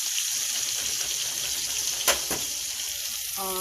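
Tap water runs steadily into a kitchen sink for dish washing, a broad, even hiss with a brief splash partway through, while pork chops fry nearby.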